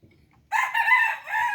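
A rooster crows once, loud and close, from a two-storey backyard coop that holds chickens below and rabbits above. The drawn-out call stands alone against a quiet background.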